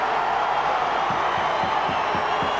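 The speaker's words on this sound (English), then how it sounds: "The crowd starting to lift." A rugby league grand final crowd, PNG Hunters against Sunshine Coast Falcons in 2017, rises into a steady distant roar of cheering, broad and sustained with a few claps poking through.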